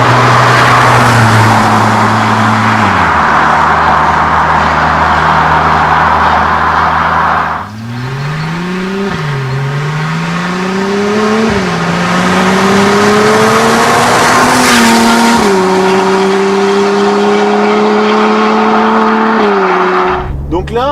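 Porsche 987 MKII Cayman with a SCART exhaust driving, engine droning steadily then rising and falling through gear changes, loud and close throughout, with a person talking over the engine.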